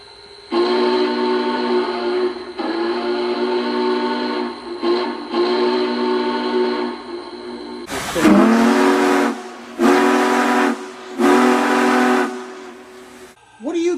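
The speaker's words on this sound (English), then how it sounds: "here is the Big Boy whistle, which is one of the whistle options in our new 412 2." An O scale Union Pacific Big Boy model steam locomotive whistle sounds loud and close, first as long sustained chords, then in three shorter blasts with brief pauses between.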